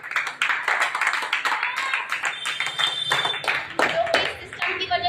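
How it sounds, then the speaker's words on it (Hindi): Loud, busy clapping from an audience at a gathering, mixed with voices talking over the claps throughout. "तो मैं बहुत बढ़िया, जोरदार ताली होना चाहिए।"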